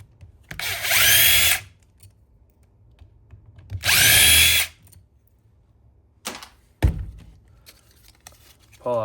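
Power drill backing two screws out of the fan motor on a scrapped microwave, two loud whirring bursts a few seconds apart, followed by a couple of short clunks and clatter of metal parts.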